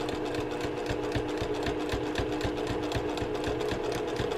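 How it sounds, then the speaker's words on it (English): Close, continuous rapid clatter of a sewing machine stitching fabric for a cushion cover, even and mechanical throughout with no talk. "I am actually going to come back on that stitching that I've just stitched very, very carefully"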